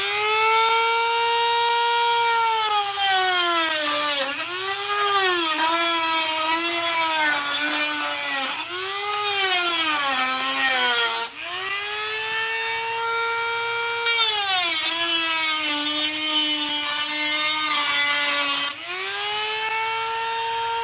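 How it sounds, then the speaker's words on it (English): A Dremel Moto tool trims plaster wrap on a gorilla mask headpiece with a loud, continuous high-pitched whine rich in overtones. Its pitch dips and recovers repeatedly as the cut loads it, with no talking. "using the Dremel Moto tool is really quick and really efficient for trimming down the plaster wrap."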